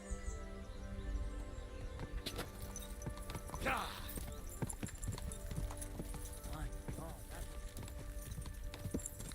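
Horse hooves clip-clopping steadily with a brief whinny in the video game Kingdom Come: Deliverance 2, moderately close amid outdoor ambience and occasional other game sounds.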